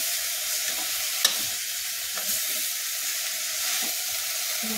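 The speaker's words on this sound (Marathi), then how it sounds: "चांगलं करून आता परतून घ्यायचं, जेणेकरून डाळ शेंगदाण्याचं कूट हे सगळं आपण" Dill greens being sautéed with moong dal and crushed peanut powder, a steady soft sizzle and hiss from the pan with a brief stirring clink, no voices.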